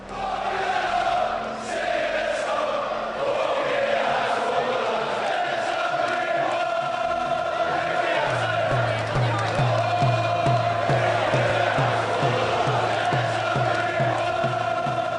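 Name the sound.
boxing crowd cheering at Mayweather versus Hatton fight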